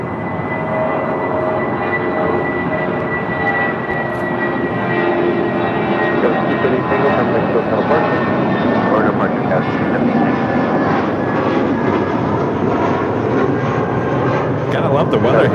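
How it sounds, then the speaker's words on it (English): A Philippine Airlines Boeing 777-300ER jet landing, a loud, sustained engine roar that swells slightly toward the end, with someone talking over it. "This is Philippine Airlines Flight 112 coming in from Manila on a 777-300ER"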